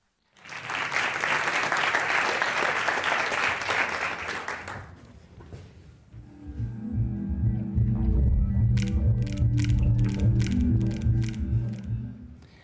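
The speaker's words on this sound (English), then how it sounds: "That was a musical mashup of sounds created by different organs of our body." A musical mashup built from sounds of human body organs: a dense, noisy wash for several seconds, then a pause and a low rhythmic pulsing layered with repeated higher tapping beats.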